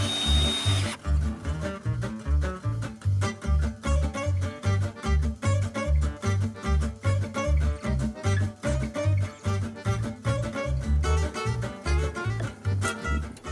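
Power drill driving fasteners to secure a wooden base frame onto foundation blocks, heard as a loud, rapid rhythmic chattering that runs nearly continuously with brief pulsing surges, close up and without talk.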